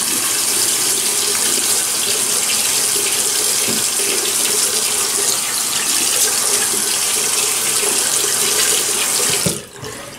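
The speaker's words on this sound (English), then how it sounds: "so let me wet the face" Steady stream of tap water running into a bathroom sink while the face is wetted before a shave, a constant close gushing hiss that cuts off abruptly near the end.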